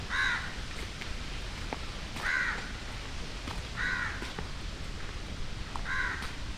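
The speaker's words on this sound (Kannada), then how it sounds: "ಬರೀ ಕಾಗಿ ಒದರಾತೈತೆ ನೋಡ್ರಿ" Crows caw at Attiveri Bird Sanctuary, four distinct bursts of harsh calls spaced a couple of seconds apart, clear and moderately close over a steady outdoor hiss.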